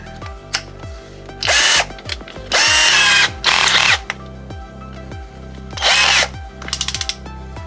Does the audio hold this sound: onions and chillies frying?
no